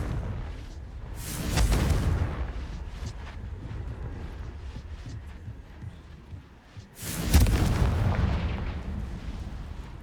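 Confringo explosive spell blasts in Hogwarts Legacy, two heavy booming bursts several seconds apart, each a sharp loud impact that rolls off into a rumbling tail, with quieter combat noise between them.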